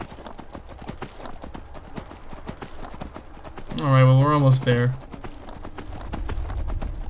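Horse hooves galloping in Skyrim, a steady rapid clip-clop rhythm running throughout, with someone talking over it and a short loud horse-like cry midway.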